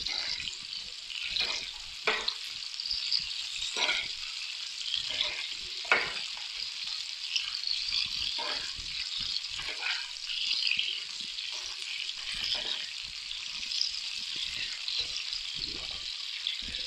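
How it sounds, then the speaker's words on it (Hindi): Okra frying in a pan gives a steady, bright, hissing sizzle, with soft irregular stirring taps and scrapes running throughout. The sound is moderately close, and no one speaks. "इनको अच्छे से हम फ्राई करेंगे इसमें 5 से 6 मिनट"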